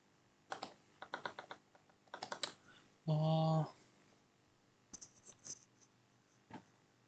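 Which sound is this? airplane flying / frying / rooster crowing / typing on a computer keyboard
typing on a computer keyboard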